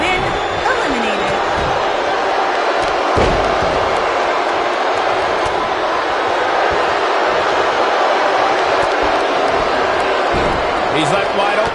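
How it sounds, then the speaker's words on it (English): Wrestling crowd in WWE 2K19 roaring in a dense, steady wall of cheering, with occasional thuds and a commentator's voice talking over it. "Listen to this crowd."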